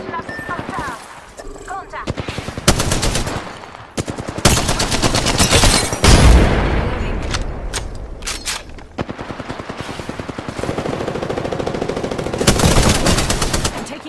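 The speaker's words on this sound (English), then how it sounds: "Contact. I'm taking shots." Rapid bursts of automatic gunfire and single loud shots in a video game firefight, repeated volleys over about fourteen seconds, close and loud, with occasional voices beneath.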